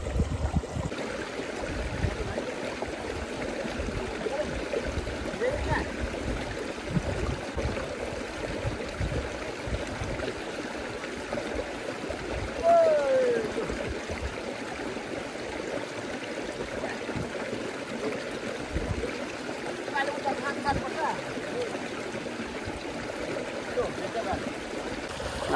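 River water flows along a village stream in a steady, close rushing trickle that runs throughout, with people talking over it now and then.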